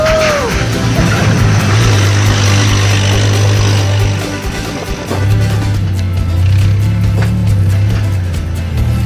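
A 1946 flat fender Jeep engine idles with a loud, steady low grunt close by. The rumble dips briefly midway and then settles back into the same even idle.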